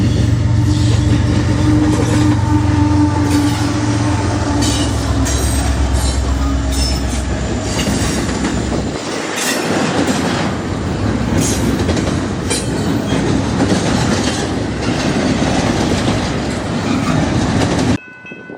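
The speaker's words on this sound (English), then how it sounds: "right behind the Sealy Local is a BNSF intermodal train" A long BNSF intermodal freight train in Texas rumbles steadily past close by, wheels clattering over rail joints with occasional metallic squeals, loud and continuous throughout.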